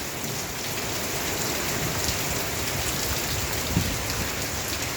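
Steady rain falls over a village, a dense even hiss of drops on surfaces, close and continuous with no voices.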